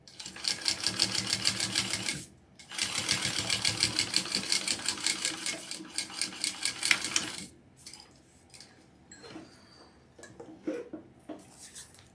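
A sewing machine top-stitches through a fabric seam in two close, loud runs of fast rhythmic chattering stitches separated by a brief pause, followed by quieter handling clicks and rustles.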